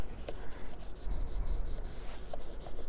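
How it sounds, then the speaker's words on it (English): Rag rubbing lemon oil into the wood of a Seagull Merlin M4 guitar, a soft continuous swishing scrub with faint back-and-forth strokes, close and quiet with no talk. "I'll just put a little bit on my rag there and I'll rub it in"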